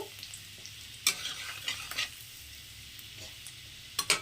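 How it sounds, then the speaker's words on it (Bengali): Soft sizzling of chopped garlic frying in hot oil, with a few sharper bursts of crackle and stirring scrapes, fairly quiet and close. "তেলের মধ্যে প্রথমেই দিয়ে দিচ্ছি আমি একটু রসুন কুচি রসুনটাকে একটু হালকা ভেজে নেব"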